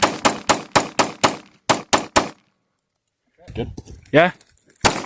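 Rapid bursts of bump-fired gunshots from a BCA-10 rifle, eight sharp loud reports in quick uneven rhythm, then a pause before people talk and exclaim, with another shot at the end.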